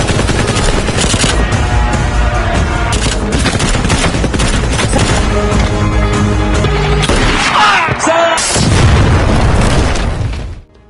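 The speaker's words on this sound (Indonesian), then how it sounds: "terjadilah aksi tembak-tembakan seru di sana" Dense, rapid gunfire crackles continuously, with bursts of automatic fire and heavy booms layered together, loud and chaotic throughout.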